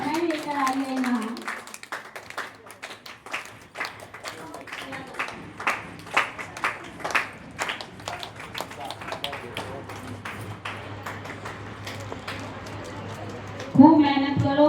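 An audience claps for a small child at a children's handwriting and drawing competition and award ceremony, scattered hand claps and taps ringing out across the hall over a long stretch, with a voice speaking briefly at the start and end.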